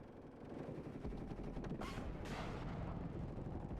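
Artillery shells strike an Abrams tank in the WARNO battlefield game, a dense continuous roar of explosions and gunfire with a couple of sharper bursts cutting through midway, loud and unbroken throughout.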